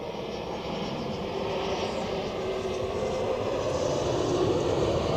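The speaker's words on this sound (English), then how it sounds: "Next on final, another Helvetic Embraer 195V2 from Thessaloniki" A Helvetic Embraer 195-E2 airliner on final approach into Zurich gives a steady, moderately loud jet rumble with a faint rising whine, alone without voices.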